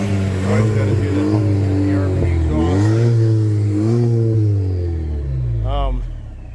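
A Chevy Colorado ZR2 Bison's exhaust revs up and down in several loud, close pulls, with a voice speaking over the engine.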